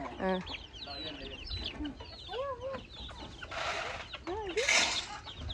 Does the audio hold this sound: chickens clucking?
yes